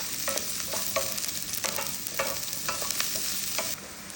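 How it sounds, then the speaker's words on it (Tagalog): Onion frying in a pan, a steady broadband sizzle with repeated scraping strokes of a stirring utensil at an irregular rhythm, close and clear with no voices. "At lagay ko na itong onion. At i-mix ko siya."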